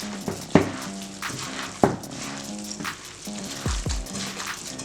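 Rice stuffing for Turkish stuffed vine leaves, with minced meat, is stirred in a pan after warm water goes in, giving a soft sizzle with scraping strokes and light clinks, close and alone.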